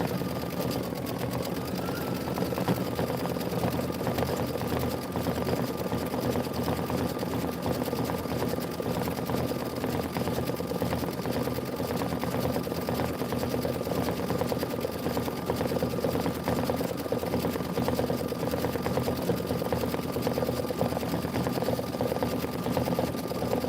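Embroidery machine stitching out a Kimberbell tiling design, a continuous steady mechanical hum and rapid needle rhythm throughout, close and even in loudness.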